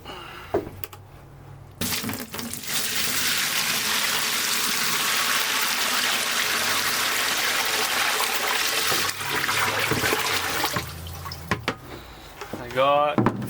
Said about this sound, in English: so we'll throw the hot water in there